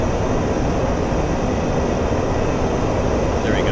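An aircraft in the DCS flight simulator game, with flaps set, revs for takeoff as a steady, dense engine roar that stays loud and unbroken from start to end.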